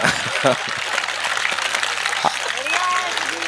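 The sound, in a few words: audience applause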